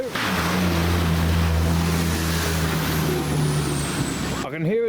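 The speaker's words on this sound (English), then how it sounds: "I can hear a diesel preparing over there." A diesel vehicle's engine rumbles steadily at a flooded ford, a loud sustained drone with churning water noise, cutting off abruptly near the end.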